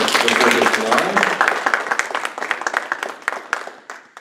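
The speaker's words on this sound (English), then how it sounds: "Give them a round of applause for coming out before July." A crowd at a PTA candidate forum for a state house district applauds loudly at first, then the clapping thins into scattered individual claps that fade toward the end.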